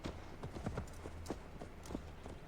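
Horse hooves clip-clop steadily in Assassin's Creed Valhalla as the mount climbs a steep hill, a quick irregular gait of soft thuds over a constant low game ambience, with no talk.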